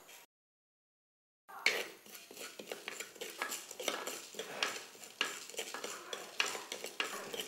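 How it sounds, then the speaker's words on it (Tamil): Pepper, fennel and cumin being dry roasted in a pan for a village crab curry, heard as repeated close scraping and rattling of a utensil against the metal, with a light sizzle, after a brief silence. "இந்த மிளகு சோம்பு சீரகம் எல்லாம் பாருங்கள் பொன்னரமாக அப்படியே வறுக்கிறோம்"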